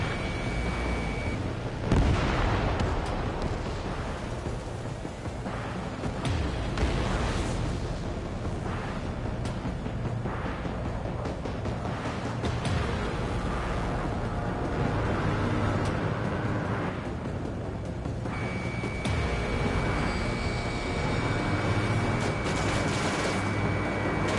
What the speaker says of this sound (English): The harbor's under heavy fire! Missile!